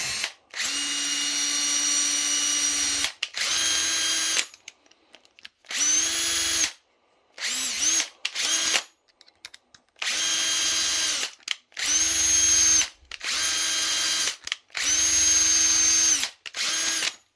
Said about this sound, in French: Je vais reprendre ma visseuse, hop, et je vais venir lui faire quelques allers-retours.